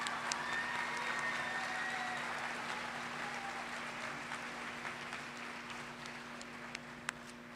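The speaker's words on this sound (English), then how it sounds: "give them a round of applause" Applause from the audience at a summer high school graduation ceremony for the class of 2022; moderate, diffuse clapping in a large space over a steady hum, with a few sharp claps near the end.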